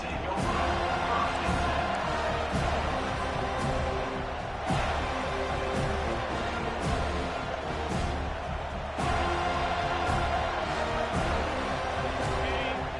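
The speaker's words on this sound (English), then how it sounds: "This crowd bringing an ear-splitting welcome to their visitors." A stadium crowd cheers at a football game, a loud and continuous roar with sharp thumps throughout, sounding under a play-by-play announcer's voice.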